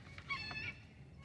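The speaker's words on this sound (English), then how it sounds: "That's called the egg call when she's getting ready to lay an egg." A faint, brief hen egg call before laying, a couple of short squawking clucks rising over quiet background, heard once and fading within a second.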